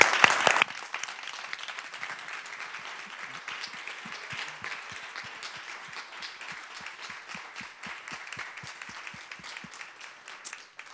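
Applause rises from the audience for the panelists at a conference on the cross in the African-American experience. A sustained, moderately distant wash of many hands clapping continues steadily for about ten seconds after a brief louder opening.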